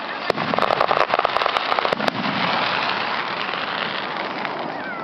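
Fourth of July fireworks crackle in a dense rapid burst of sharp pops that fades into a steady hiss of distant rumble.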